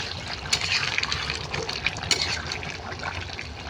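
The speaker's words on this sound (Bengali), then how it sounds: "এখন নামিয়ে নেব তরকারি গামলায় ঢেলে নিয়েছি" Chicken feet and papaya curry is poured from the pot into a bowl, a close, continuous wet sloshing and splattering of thin gravy and pieces.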